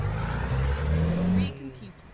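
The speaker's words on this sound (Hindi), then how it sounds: "इंजन का साउंड भी अच्छा है यार, ये देखो" Truck engine in Euro Truck Simulator 2 on Asian roads, a steady low drone that swells and then drops away, with someone talking over it.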